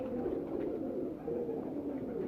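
Pigeons bred and conditioned for a flying competition coo steadily and close by, a soft low continuous murmur with no talk.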